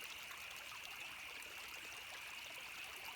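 A creek flows behind a house on rural property, with a steady, even rush and trickle of water. It stays constant and fairly faint throughout, with no other sounds and no speech.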